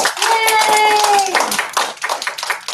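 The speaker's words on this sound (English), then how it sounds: "Let's give her a clap." Children clapping after a Dr. Seuss read-aloud, a quick burst of small hands close by, mixed with excited cheering and a sung high voice over the applause.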